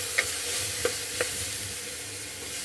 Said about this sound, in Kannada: ಚೆನ್ನಾಗಿ ಬಾಡಿಸ್ಕೊಳ್ಳೋಣ.